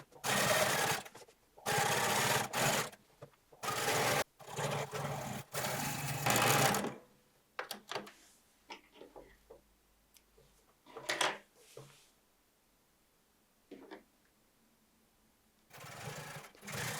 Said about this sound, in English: With the seam pressed towards the front, stitch the first row of top stitching.